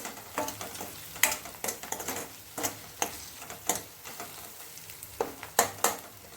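Dry kasuri methi roasting in a pan, with a soft continuous sizzle broken by repeated short scraping stirs at an uneven rhythm, close up and moderately quiet, with no talking.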